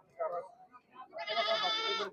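At a goat market, a soft murmur, then a young billy goat lets out one long, wavering bleat, close and fairly loud.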